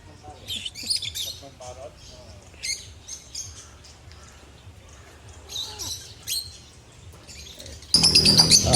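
Lovebirds and other birds chirp and tweet in a bird feeding dome at a garden resort, bursts of high calls coming and going close by, with a loud rustle or flutter at the end.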